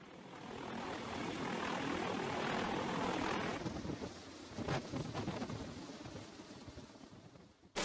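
Sikorsky CH-53K King Stallion heavy-lift helicopter during a sea trial aboard a U.S. Navy amphibious dock ship, a loud steady rotor and turbine roar that eases slightly with gusty buffeting toward the end, no voices.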